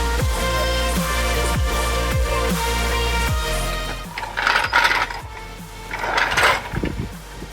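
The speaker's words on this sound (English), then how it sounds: "we're just slacking off the bolts and then we'll jack it up." A hand ratchet loosens the wheel bolts on a Toyota GR Yaris. Rapid clicking runs under a steady mechanical background, followed by metallic clanks and handling knocks nearby.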